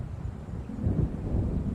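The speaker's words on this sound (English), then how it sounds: "It seems there's a storm coming." Low rumbling thunder from an approaching storm in a video game, a steady deep roll that swells midway, with a windy wash over sea waves and no voices.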